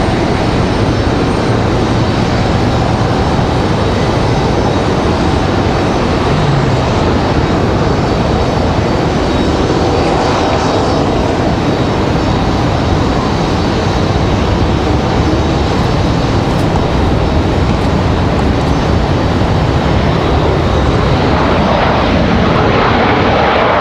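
An Endeavor Air jet from JFK roars loudly and close at Raleigh-Durham airport, a sustained engine rush that holds steady with no voices over it.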